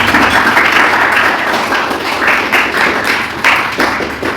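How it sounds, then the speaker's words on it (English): Group of listeners clapping together for someone who just read a poem, a brisk, fairly loud burst of scattered hand claps lasting several seconds. "Clap for him."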